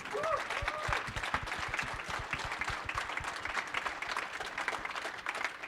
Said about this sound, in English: So please, everyone, give them a round of applause.